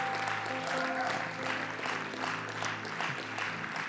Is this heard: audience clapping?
yes